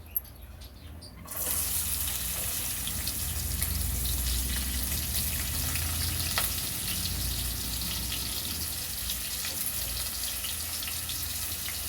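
Onions hit hot oil in a pan with a brief clatter, then a loud, steady sizzle of frying that holds strongly to the end, for a potato and chili curry.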